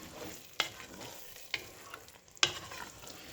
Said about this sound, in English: let's give it a stir